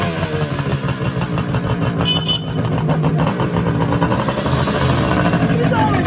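A 1976 Suzuki GT 550 Ram Air Indy motorcycle runs close by as its rider arrives in a garage, with a continuous, throbbing engine note and voices mixed in under the engine.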